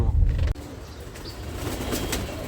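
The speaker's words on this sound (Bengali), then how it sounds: "এই যে আমার কবুতর সব কবুতর এখানে" Pigeons at a feeding spot flap their wings in a loud burst at the start, then a steady outdoor rustle continues with soft, faint bird sounds above it.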